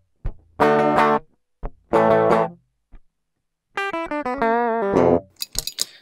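Electric guitar played through a NUX Cerberus multi-effects pedal with cab simulation switched off, giving a clean tone: separate strummed chords and a short run of single notes, each phrase ringing out and then cut to silence.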